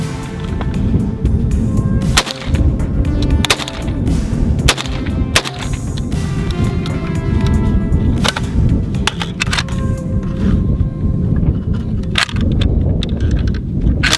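Several sharp rifle shots fired during an AR versus AK sand test, each a loud crack spaced irregularly over steady background noise with metallic handling sounds between.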